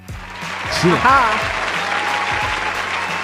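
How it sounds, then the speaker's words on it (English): A crowd claps in a dense, sustained patter, with a few voices calling out over the applause. "Round of applause for that."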